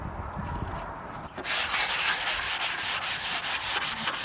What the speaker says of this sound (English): I might hand sand this one.